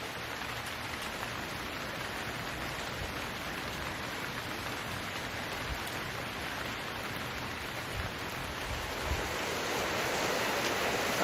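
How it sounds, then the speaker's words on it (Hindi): Early-morning rain falls steadily in the mountains at Manali, a dense, even hiss of drops that swells slightly toward the end, with no voices. "It's 5:30 in the morning and it is raining."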